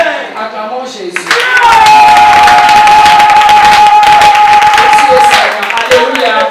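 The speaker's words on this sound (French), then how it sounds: "Acclamons Jésus." A church congregation bursts into loud cheering and acclamation after a short spoken lead-in, with sustained crowd shouts and clapping filling the room.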